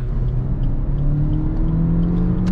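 Suzuki Vitara 1.4 Boosterjet Allgrip engine accelerating on a twisty road, a loud, steady rising drone heard from inside the cabin without a break.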